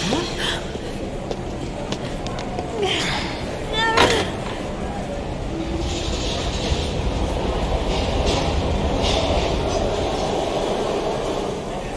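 A train in the video game Heavy Rain rumbles steadily with clattering and rolling noise, joined by brief higher squeal-like sounds early on, while voices speak over it.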